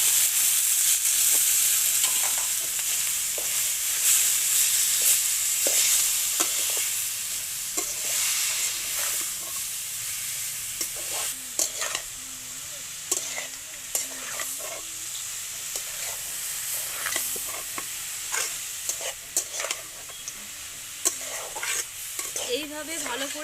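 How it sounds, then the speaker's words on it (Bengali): Grated carrots frying in ghee with cashews, raisins, cinnamon and cardamom for carrot halwa, giving a continuous bright sizzle and repeated scraping and clinking as a utensil stirs the pan. The sound is close and steady and no one speaks. "এইভাবে ভালো করে একটু ভেজে নেব। গাজরটা নাড়াচাড়া করে নিয়েছি"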